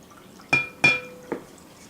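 Kombucha drains from a container in a few distinct splashing drips with glassy clinks, three separate wet bursts close by against quiet background, no speech.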